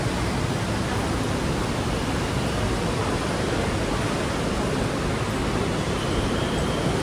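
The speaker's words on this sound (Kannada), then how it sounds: "ನೋಡಿ ನೀರು ತುಂಬ ಹರಿತಾ ಇದೆ." Water rushing strongly at a temple after rain makes a dense, steady roar that fills the whole clip without pause, close and loud, with no voices.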